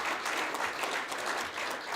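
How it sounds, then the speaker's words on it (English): Audience at a primary candidates forum breaking into dense, steady applause, a continuous rush of clapping hands lasting a couple of seconds with no voices on top. "Can you give them a round of applause?"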